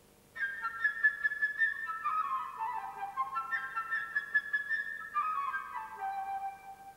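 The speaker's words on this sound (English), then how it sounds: "the bird is represented by the flute" A solo flute plays the chirping bird theme from Prokofiev's Peter and the Wolf. Its bright, fast runs and trills rise and fall clearly over near-silence.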